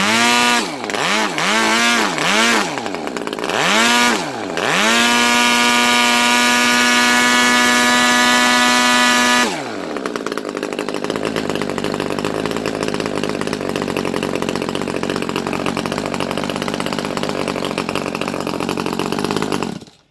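A Super Tigre 60 inline twin model engine converted to gasoline with CDI ignition revs up and down in several bursts, then holds a loud, high buzzing drone before settling into a rougher, steady roar.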